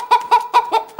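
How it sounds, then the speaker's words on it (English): A live chicken squawks as its throat is slit, five loud, harsh clucking bursts in a quick, even rhythm, close and alone with no talk. "slit the chicken's throat like so"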